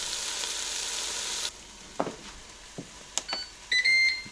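Spinach frying in a Ninja pan at breakfast: a steady sizzle that drops away partway through, followed by scattered scraping and stirring knocks and a few short electronic beeps near the end, with no talk.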